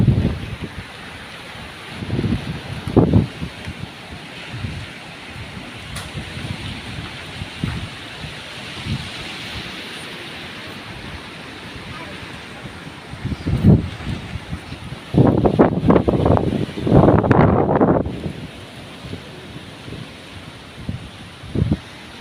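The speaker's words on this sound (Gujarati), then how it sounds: "વાવાઝોડા જેવો પવન ચાલુ છે" Strong, stormy wind with rain sweeps through a farming village, a constant rushing roar broken by louder gusts that build and swell near the end.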